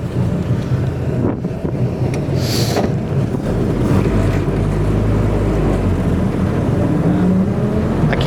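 A restored 1948 Willys Jeep CJ-2A drives along with a loud, steady low engine rumble, heavy wind buffeting on the microphone and a faint rattle, and no voices.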